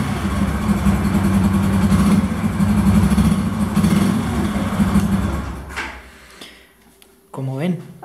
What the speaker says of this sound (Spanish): vamos a dar arranque la motocicleta